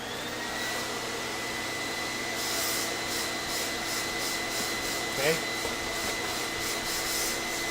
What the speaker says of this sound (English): let's vacuum this.